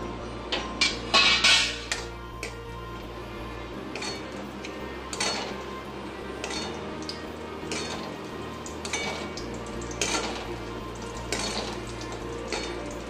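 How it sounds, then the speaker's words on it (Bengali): Lentil dumplings (bori) drop into hot oil and fry with a soft sizzle, punctuated by sharp clinks and scrapes of a utensil stirring against the pan, strongest near the start. "তেলটা গরম হয়ে এসছে, বড়িগুলো ছেড়ে দিচ্ছি।"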